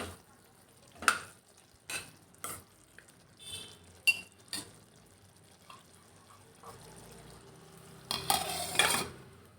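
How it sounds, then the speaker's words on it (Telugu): Chicken liver fries in a pan with masala powder, giving a low steady sizzle broken by sharp scraping stirs and clinks of a spoon against the pan, ending in a louder burst of frying. "ఇందులో తయారు చేసి పెట్టుకున్న మసాలా పొడి వేసుకుని దీన్ని బాగా దగ్గరికి ఫ్రై అవ్వనివ్వాలి"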